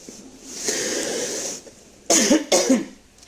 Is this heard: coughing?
yes